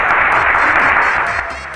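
Game show studio audience claps in a dense, loud burst that holds briefly and then eases off slightly.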